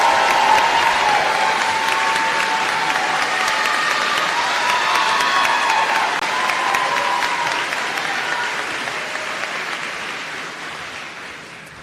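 At a university student recognition ceremony, a large crowd claps steadily and enthusiastically throughout, with a few faint cheers, the applause slowly tapering off toward the end.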